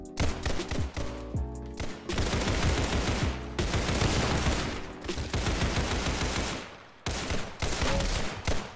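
AK rifle gunfire in Roblox Criminality: loud, close bursts of rapid automatic shots, several long sustained volleys broken by short pauses across the whole stretch.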